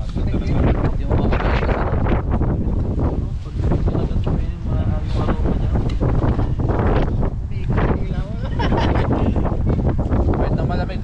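Strong wind buffets a fishing boat out at sea with a constant loud roar and rumble on the microphone. Voices talk intermittently underneath.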